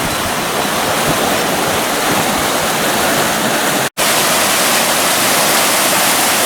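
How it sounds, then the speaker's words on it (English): A loud, constant roar of a waterfall in Ebermannstadt, dense rushing water filling the whole clip with a brief dropout in the middle. "So I'm here at what looks like a waterfall"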